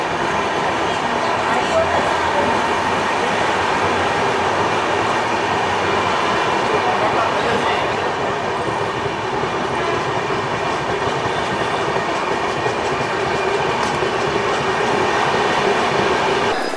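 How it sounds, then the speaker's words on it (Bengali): The 12303 Poorva Express runs fast between Durgapur and Asansol with a loud, steady rumble and rhythmic wheel clatter, carriage noise droning throughout, faint voices in the background. "ট্রেনটা ছেড়ে দিল দুর্গাপুর জংশন"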